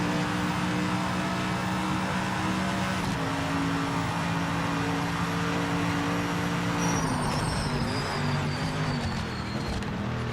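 Mercedes-AMG race car engine in the Project Motor Racing game, a loud continuous growling roar that climbs and falls through the gears, with a high whine rising toward the end and no one speaking.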